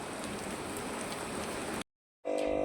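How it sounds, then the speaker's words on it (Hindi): Heavy rain pours down in a dense, steady hiss close by, cuts to silence briefly, then returns, with no voices. "बहुत तेज़ बारिश हो रही है।"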